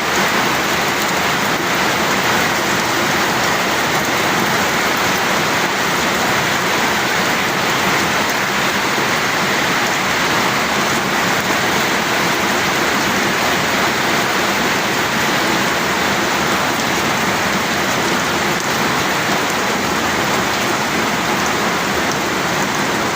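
Heavy habagat monsoon rain falls on a hilly area in a loud, steady wash of noise that holds constant throughout, with no voices.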